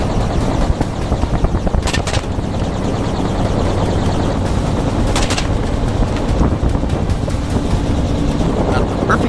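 Rapid gunfire from a helicopter during a wild boar hunt over open grassland, sharp cracks and bursts standing out against constant rotor and wind roar.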